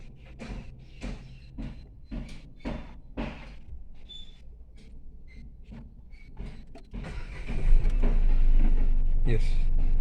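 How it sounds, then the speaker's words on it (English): A new car starts up during a first driving lesson: a series of clicks and short mechanical thuds under a voice, then the engine catches and settles into a loud, steady idle rumble. "then start the car"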